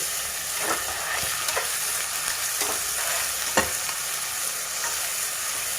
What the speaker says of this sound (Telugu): ఇది కూడా బాగా వేగిన తర్వాత ఈ అల్లం పేస్ట్ కూడా బాగా మగ్గిపోయిందండి